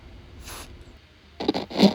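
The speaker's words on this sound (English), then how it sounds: "There's contact spray there, so I'll just get that blast" Contact cleaner sprayed onto the black volume slider runners of a vintage Sony CFM-33L radio: two short, close hissing blasts in quick succession after a quiet moment.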